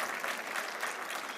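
At an annual day celebration, an audience of faculty and students claps for themselves, a brief, soft but dense patter of many hands heard from some distance.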